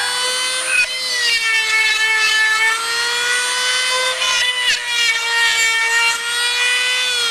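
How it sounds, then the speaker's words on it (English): A power drill bores holes for a handmade Christmas gift craft. Its steady high motor whine runs close and loud for the whole stretch, with small dips in pitch as the bit bites. "I'm going to use this drill, okay, you"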